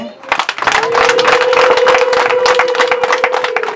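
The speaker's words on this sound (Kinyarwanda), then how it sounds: "mutwakirira ayo mashimwe n'amashyi menshi" Enthusiastic audience applause fills a Rwandan wedding ceremony, a dense sustained wash of many hands clapping that swells quickly and holds steady, with a tonal hum running beneath it.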